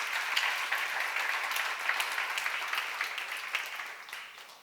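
Audience at a church seminar clapping together in a steady burst of applause, many hands close and even, gradually fading toward the end.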